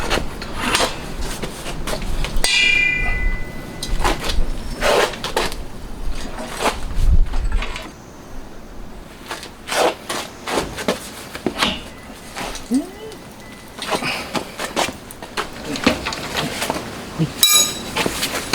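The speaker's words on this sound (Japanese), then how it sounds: "ではベンダー使って曲げてきますね。" A metal arm part for an engine build is bent with a bender tool, giving sharp clanks, creaks and metallic knocks at irregular intervals up close, with a person talking in between.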